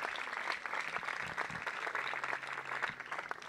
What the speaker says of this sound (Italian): un applauso ai clienti difficili